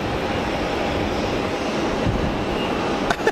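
Royal Air Maroc airliner at Geneva Airport, its engines giving a steady, loud broadband roar throughout with no talk, a brief rattle near the end.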